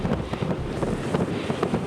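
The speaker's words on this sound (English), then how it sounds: "Winds gusting up to 60 miles an hour and blowing snow non-stop" Strong wind gusts of up to 60 miles an hour buffet the microphone high on K2 amid blowing snow and deep cold, a loud, rough, continuous roar with irregular surges.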